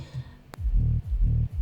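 Deep, booming big room kick drum hits repeating in a steady rhythm, each with a punchy low thump and long sustained bass tail, loud and close.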